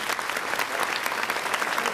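A television studio audience gives child performer Gia Bảo a loud, steady round of applause, dense continuous clapping with no voices on top.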